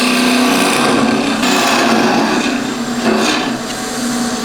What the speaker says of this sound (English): Now I'm going to just turn a bit of a hollow in there